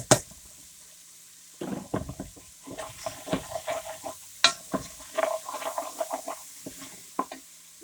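Sliced mushrooms tipped into a hot pan for chicken cacciatore, with a series of scraping stirs and soft clatters over a faint sizzle, close and uneven.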